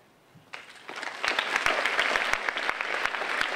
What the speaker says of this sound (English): Could we save the applause to the end of the 30-minute statements, just in the interest of time?